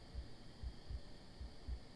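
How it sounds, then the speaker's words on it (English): A weak heartbeat thuds softly and low in a dark forest at night, five dull beats at an even pace under a steady faint hum. "I hear a heartbeat."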